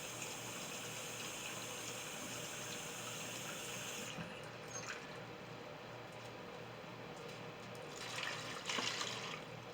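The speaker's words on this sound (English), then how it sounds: "I gotta add some water." Water pouring steadily into a container for pumpkin puree, a close, continuous gushing stream that runs throughout and swells briefly near the end.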